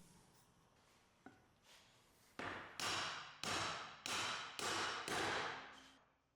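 A light tap, then six loud metallic hammer blows at a steady pace on a U-joint bearing cap in a Ford Ranger driveshaft, each ringing briefly before the next strike.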